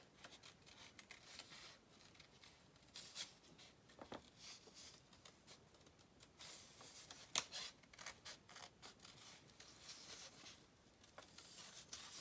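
Scissors snip through brown paper while cutting out ornament pieces, a close series of crisp, irregular cuts and papery rustles with a few sharper snaps, no talking.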